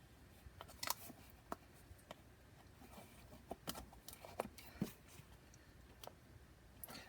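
Scissors snip through paper at close range, a series of irregular crisp cuts and rustles spread across several seconds in a quiet room.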